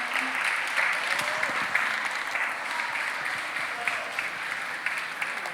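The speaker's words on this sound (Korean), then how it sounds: "여러분 다시 한번 따뜻한 박수 주시겠습니까?" An outdoor audience at a Sewol ferry memorial ceremony in Ulsan applauds in a steady, sustained wash of clapping that fills the whole stretch, with rain falling on the gathering.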